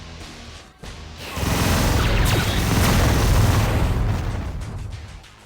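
Omega Cannon weapon fire in Descent 2 erupts into a loud, sustained crackling roar with deep rumbling body, holding steady for several seconds before easing off, with no talk over it.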